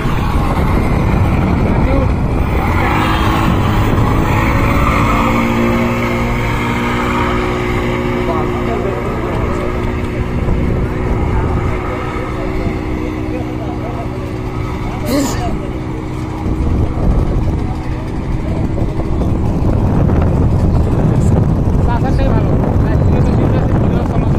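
A speedboat engine drones steadily with wind buffeting the microphone outdoors in Gazipur, a continuous loud rumble and hum lasting throughout, with a person talking over it.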